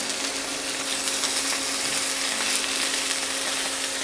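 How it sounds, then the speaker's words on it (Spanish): Pepper-crusted pork loin sears in a hot pan, giving a steady, even sizzle with a faint hum beneath it and no clear breaks over a few seconds. "Los ponemos a sellar."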